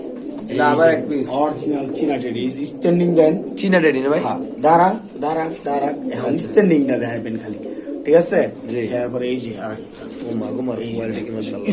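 A pair of royal teddy pigeons coo near at hand in repeated rolling phrases, mixed with people talking close by.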